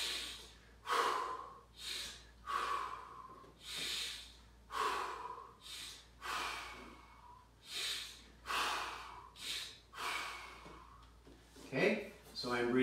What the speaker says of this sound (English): I'm breathing in as I'm coming down and loading the weight, and then out as I'm pushing it up